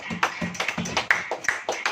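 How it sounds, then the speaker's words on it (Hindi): A church congregation claps hands during a sermon, a quick run of fairly even claps, about a dozen in two seconds, moderately close and on its own without talk. "ताली बजाओ।"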